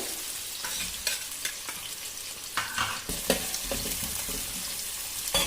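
Onions sauté in a pan for a Kerala-style nadan chicken curry, giving a steady close sizzle broken by the scrapes and clicks of stirring.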